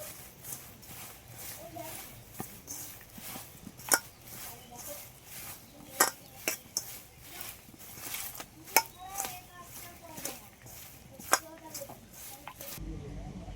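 Soybean chunks tossed by hand with ground cumin, coriander and black pepper in a bowl: soft, wet squelching and rubbing, with sharp clinks of the bowl at irregular moments. Talk continues throughout.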